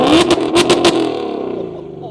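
Loud revving from a 2024 Ford Mustang GT (S650) with stainless long-tube headers in track mode, a few sharp throttle blips that drop into a fading, burbling idle, heard close up.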